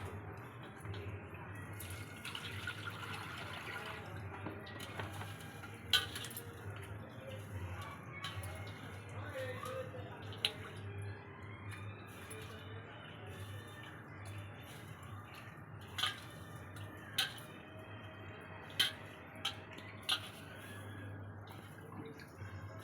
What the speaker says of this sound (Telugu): ఇప్పుడు కడుక్కున్నాము, ఉప్పు వేసి బాగా పసుపు ఉప్పు వేసి కడగాలి